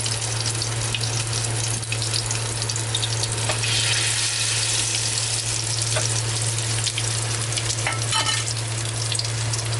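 Masala fish fries in a pan with a loud, steady sizzle and crackle that runs without a break, close up, with no talking.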